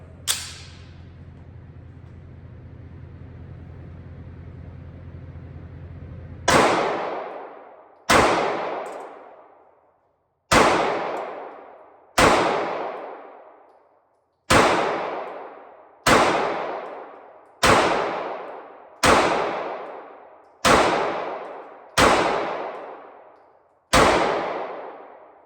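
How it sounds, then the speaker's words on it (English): Ten sharp pistol shots from a Bul Armory SAS II Ultralight ring out one at a time at an outdoor range, each loud crack followed by a quick decaying echo, spaced a second or two apart after a low humming lead-in. "shoot a little bit downrange, and see how it works"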